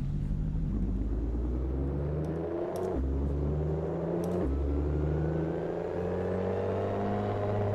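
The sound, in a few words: Ferrari LaFerrari pulling away in first gear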